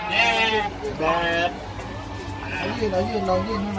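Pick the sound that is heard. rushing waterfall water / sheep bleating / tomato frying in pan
sheep bleating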